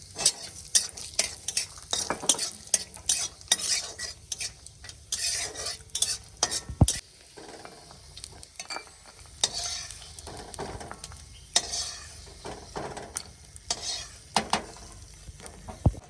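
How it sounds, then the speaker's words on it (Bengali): Peanuts frying in hot oil in a wok, with a continuous sizzle under frequent scraping strokes of a spatula stirring them, close and fairly loud, no voices. "বাদাম আর এই চীনা বাদামগুলো ভাজে নেব"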